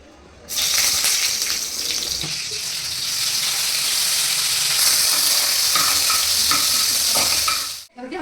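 Chopped onions hit hot oil and sizzle loudly and steadily, with occasional stirring clatter, before the sound cuts off near the end.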